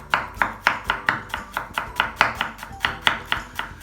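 Cabbage being finely chopped with a knife on a board for chana chaat: a fast, even run of about sixteen crisp chops, close and clear with no talking.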